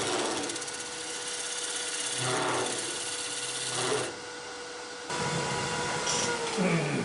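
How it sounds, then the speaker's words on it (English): A gouge cuts a wooden hollow form spinning on a lathe, a steady loud whirring scrape with rising and falling strokes and a brief dip in intensity, the tone shifting as the cut changes. "I'll open up the top with the gouge."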